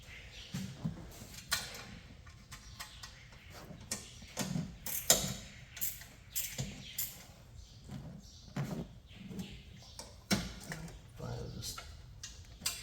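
Ratchet tightening header bolts on a Pontiac engine in a first-generation Firebird, giving scattered quiet clicks and short mechanical bursts at close range, with occasional low talk.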